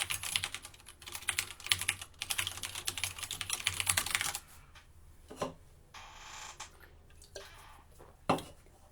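Rapid clatter of keys on a computer keyboard during a programming session, dense and continuous for several seconds, then sparser scattered keystrokes and a couple of sharper clacks.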